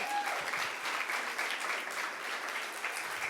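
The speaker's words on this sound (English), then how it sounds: "That's when we clap." An audience claps steadily and loudly at a political event in Washington, a dense, even wash of hands lasting several seconds with no talk on top.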